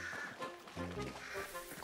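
Birds squawking and quacking in the video game Hunt: Showdown, a rough, overlapping cluster of honking calls that stays fairly steady and moderately close for the whole short stretch.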